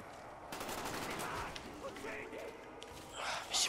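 Gunfire in a zombie video game, several bursts of shots popping over a noisy game soundtrack, fairly faint in the mix and without clear talk.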